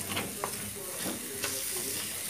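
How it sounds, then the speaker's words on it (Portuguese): Egg and sausage sizzle steadily in a frying pan while a utensil scrapes and stirs through them every so often, close and continuous. "Aí ele vai fritando."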